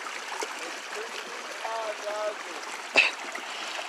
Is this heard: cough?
no